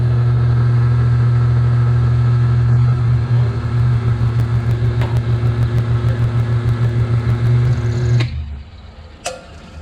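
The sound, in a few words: milling machine plunging a cut into metal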